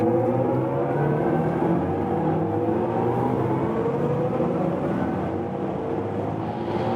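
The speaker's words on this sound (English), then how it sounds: "Let's now accelerate from 110 kilometers an hour." A BMW iX M60 electric car with 619 hp and 1100 Nm accelerates from 110 km/h: a steady rising electric whine over loud road and wind roar, continuous and close, with no talk.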